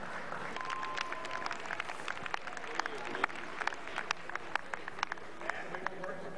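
Thin, sparse clapping from a small audience, scattered claps over a murmuring crowd, fairly quiet and brief.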